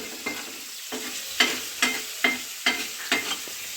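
Ingredients for a prawn and coconut fry sizzle in a pan, with rhythmic scraping strokes of a spoon about twice a second over a steady frying hiss. Close and clear, with no voices.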